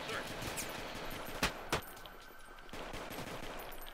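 Roblox shootout gunfire: a couple of sharp, distinct shots stand out near the middle over a busy, noisy background, fairly faint overall.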